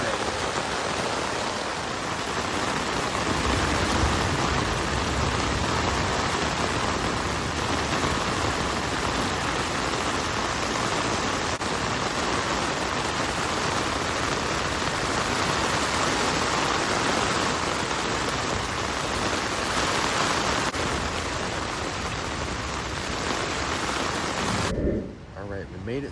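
Heavy rain pounding steadily on a camping tent, a dense, loud, continuous patter that holds for the whole stretch and cuts off abruptly near the end, with no talking.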